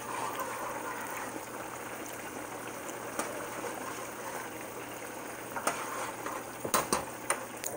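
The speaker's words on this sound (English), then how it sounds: "my rice is boiling because I don't have a rice cooker." Rice boils in a pot, bubbling and simmering steadily with soft gurgling and hiss, a few sharper clinks and ticks near the end.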